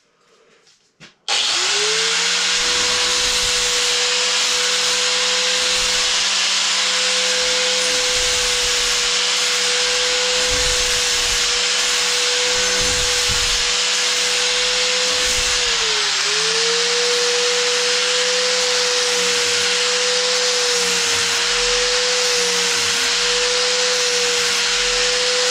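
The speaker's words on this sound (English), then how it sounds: "so I'm gonna find my buffing wheel again" Buffing wheel polishing a homemade dagger, a loud steady motor whine with a constant hum that starts abruptly after a quiet moment, dips briefly as the blade presses in, and runs on without talking.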